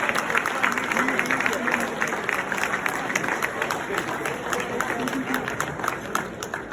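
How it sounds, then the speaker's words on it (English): A crowd applauds steadily throughout, dense clapping with cheering and voices mixed in, filling the room without letting up. "a nice round of applause"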